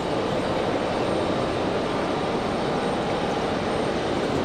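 An F-15 fighter jet produces a dense, constant roar at full strength throughout, loud and unbroken with no voices over it.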